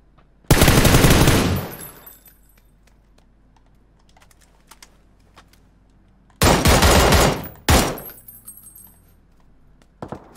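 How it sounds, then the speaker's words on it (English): Machine gun fire in the Xbox battle royale game PUBG: loud, sharp bursts of rapid automatic shots, one long burst, then a gap with faint clicks before two more bursts close together and a final short shot. "Somebody else is shooting."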